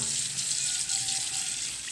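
Tap water runs steadily into a sink while a pan is washed with a little soapy water, a continuous hissing splash with no talk.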